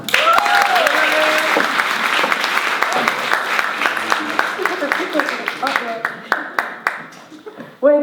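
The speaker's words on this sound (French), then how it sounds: "Je demande un tonnerre d'applaudissements pour la bienveillante Salima." Applause at a BOOST TALKS 2018 event for speaker Salima, loud crowd clapping with some speech over the start that thins into scattered individual claps before fading out.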